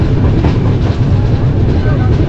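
A train rumbles loudly and steadily at Moradabad Junction railway station, a dense low roar of wheels and carriages heard from close by.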